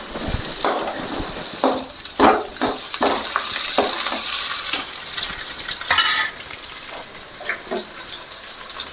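Garlic and green chillies sauté in a hot pan with curry leaves, giving a steady close sizzle broken by repeated spoon scrapes and stirring knocks, with no talking.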